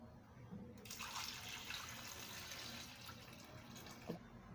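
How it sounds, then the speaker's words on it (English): Water pours steadily into a cooking pot holding cow head being softened for okazi soup, a continuous splashing rush lasting a few seconds at moderate distance, with a faint background hum before and after. "now I'll be adding my water"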